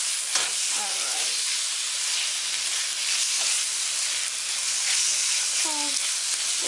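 Garlic sizzles in a frying pan with a constant, loud, bright hiss and occasional stirring scrapes and faint voices in the background.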